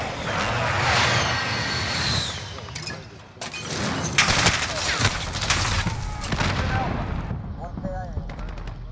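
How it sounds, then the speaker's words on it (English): In Call of Duty: Modern Warfare, a precision airstrike and gunfire erupt: a jet engine roars overhead amid loud, rapid bursts of automatic fire and sharp blasts, with players talking underneath the din. "Friendly precision airstrike inbound."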